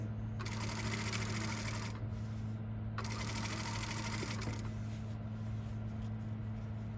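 Sewing machine top stitching along a garment yoke, running in two steady bursts of broadband whirring with a pause between, over a constant low hum.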